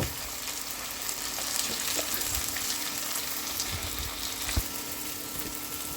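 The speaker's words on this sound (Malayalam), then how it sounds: "ഞാൻ കുറച്ച് ഉപ്പ് ആഡ് ചെയ്ത് വഴറ്റിയെടുക്കാൻ പോവാം" Ginger, green chillies and curry leaves sauté with salt in a hot pan, a steady close crackling sizzle running throughout with a few sharper pops and clinks.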